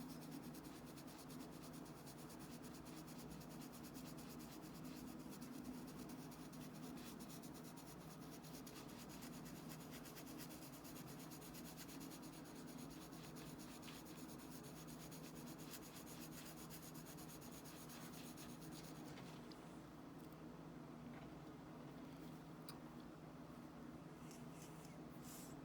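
Graphite pencil shading on paper with loose, light feathering strokes while drawing an eye: a faint, continuous dry scratching and rubbing that carries on steadily with no talking.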